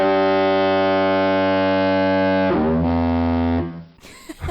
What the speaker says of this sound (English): It's the foghorn that's used at the light station.